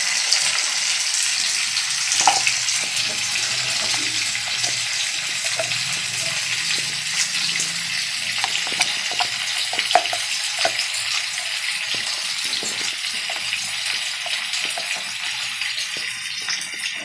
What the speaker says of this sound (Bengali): দেখো আলু আর পেঁপে ভেজে নিলাম।